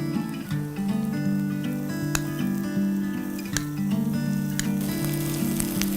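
Chopped onion sizzles and crackles steadily in hot oil in a pan with curry leaves, a constant fizzing bed with a few sharper clicks and pops from stirring, with a low steady hum beneath.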